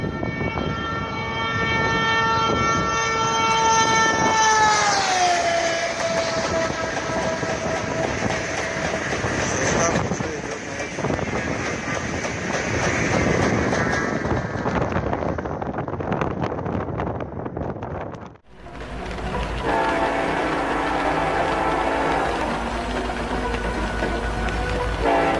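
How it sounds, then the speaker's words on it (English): A train travels at about 200 km/h during brake tests after its locomotive and cars have been uncoupled, passing with a loud roar and rattling, a horn-like tone dropping in pitch as it goes by, then a sudden cut to a steadier rumble. "The tests were conducted at high speed, around 200 kilometers per hour."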